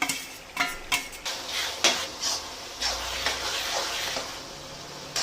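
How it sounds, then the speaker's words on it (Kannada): Mashed tomato frying with ginger garlic paste in a pan, stirred with a utensil: soft sizzling under repeated scraping and clinking taps against the pan, close and fairly loud, with no talking. "ನಂತರ ಇದಕ್ಕೆ ಮ್ಯಾಶ್ ಮಾಡಿದ ಟೊಮೆಟೊ ಹಾಕಿ ಚೆನ್ನಾಗಿ ಬೇಯಿಸಬೇಕು"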